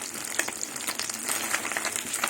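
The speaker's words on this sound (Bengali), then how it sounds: "মাছ ভাজা হয়ে গেছে মাছগুলো তুলে নেব" Small fish mixed with a few prawns fry in hot oil in a home kitchen, giving a steady, close hiss and sizzle with scattered crackles and pops.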